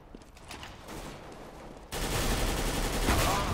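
Galil rifle fire in CS:GO, distant scattered shots at first, then close, sustained rapid gunfire filling the last half of the clip, with no speech.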